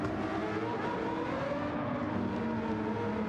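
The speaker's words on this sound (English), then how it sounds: "It sounds like a Formula 1 car." A race car engine in Gran Turismo 7 during an endurance championship race holds a continuous high, buzzing drone at a steady pitch throughout, with no talking.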